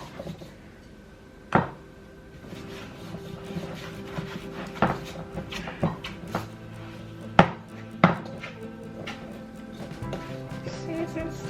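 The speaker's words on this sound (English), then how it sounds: "I'm gonna sprinkle some flour actually on it, some dry flour, and just pat it down" Hands pat and press roti dough dusted with dry flour on a kitchen counter for Guyanese oil roti, giving irregular close soft thumps and slaps with a few sharper knocks and quiet handling noise between, without speech.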